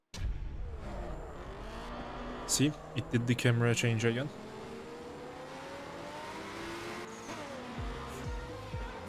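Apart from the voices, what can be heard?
car engine revving in a video game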